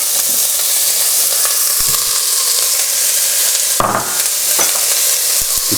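Onions sizzle loudly in a hot soup pot with leeks, a constant bright frying hiss broken by a few scraping clacks of a spoon stirring them around.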